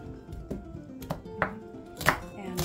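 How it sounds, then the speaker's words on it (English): A knife roughly chopping food on a board, about six sharp, irregular cuts, close and clear, with a louder pair of chops near the end. "we're going to chop this up roughly"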